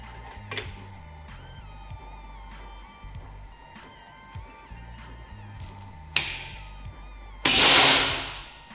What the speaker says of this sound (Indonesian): Tembakan yang ke-7